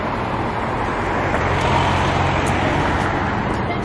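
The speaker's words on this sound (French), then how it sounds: "Vous voyez les voitures qui passent, les voitures qui passent prévues en fait." Steady road traffic on a busy city-centre street, cars rolling past in a continuous broadband wash with a low engine hum, fairly close and loud, with no distinct single pass standing out.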